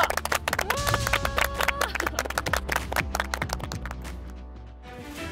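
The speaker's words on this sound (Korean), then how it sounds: "여러분, 박수 부탁드리겠습니다." A crowd claps at the final of a golf tournament at Artitaya Golf Club in Thailand. Dense, steady applause fills the whole stretch, with a voice talking over it near the start.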